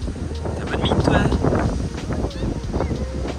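Strong wind buffets a microphone outdoors at a skatepark during a mistral gale, a continuous loud rumbling roar with gusty swells throughout.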